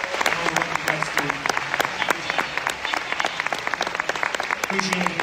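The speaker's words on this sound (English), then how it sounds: "So a huge round of applause to Blood Work UK and all the work you guys do." A gala crowd claps in a dense, sustained round of applause, sharp hand claps packed closely together and fairly loud, with voices faintly mixed in beneath.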